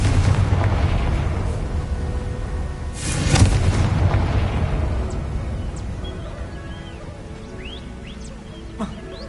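A Confringo fire spell explodes in Hogwarts Legacy, a heavy rumbling boom that swells to a loud blast and then trails off, followed by faint chirps and small sparkly game effects.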